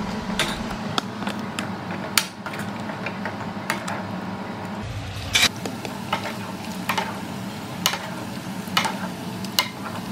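Spices tempering in hot oil for a Mangalore cucumber curry give a low, steady sizzle with scattered sharp clicks and scraping stirs, fairly close and without voices.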